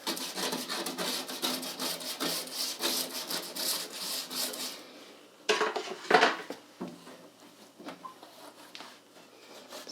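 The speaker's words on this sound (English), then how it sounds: "Looks like we're gonna need a bristle brush here." Rhythmic scraping strokes of a bristle brush scrubbing in a kitchen, with a bucket close by; repeated, close-up strokes that break off briefly, then return as a few harder scrubs and softer rubbing.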